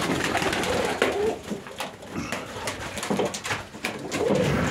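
Pigeons coo in soft, repeated rolling calls, several birds close by, with rustling and shuffling inside a pigeon loft.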